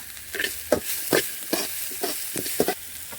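Green chillies and curry leaves frying in hot oil in a pan for carrot rice, an even sizzle overlaid with quick, rhythmic scraping strokes of a spatula stirring close by.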